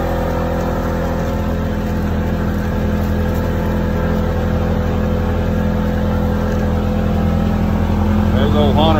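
Polaris Ranger XP 1000 side-by-side engine held at high RPM around 5,200 on a belt test, a steady loud droning roar throughout with someone talking over it.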